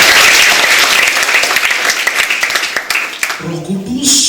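A congregation in church on Pentecost Sunday applauds loudly, the clapping thinning into scattered claps before a voice begins speaking at the end.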